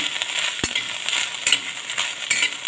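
Red dried chillies and garlic dry-roast without oil in a damp pan on the stove, hissing and crackling close up, with a few sharp scraping stirs that break the steady sizzle.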